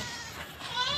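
Gulabi teddy breeder goat bleating, a single nasal, wavering cry heard close and fairly loud throughout.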